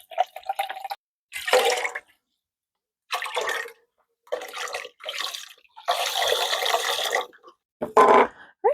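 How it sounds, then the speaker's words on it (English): Chicken broth poured into tomato cans and sloshed around to rinse them out, several short splashing and gurgling bursts separated by silences, close and fairly loud. "I'm going to use it to rinse out my tomato cans, just so that I get all of the tomato that was in those cans into our soup"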